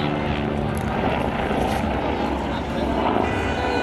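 A BO-105 helicopter performing aerobatics gives a steady, loud, broadband engine and rotor roar that holds continuously throughout, with no talking.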